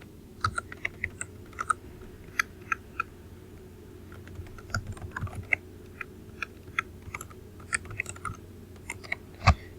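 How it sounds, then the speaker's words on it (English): Someone types a search into a catalog on a computer keyboard: quiet, irregular bursts of key clicks with short pauses between, heard close against a soft room hum. "we're just going to type in what we're looking for"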